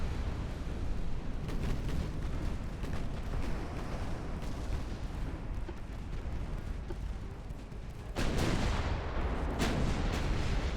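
Heavy naval gunfire and torpedo impacts in the warship battle game Ultimate Admiral: Dreadnoughts: a dense, continuous barrage of booming cannon shots and rumbling blasts, with a sharp, louder explosion striking near the end.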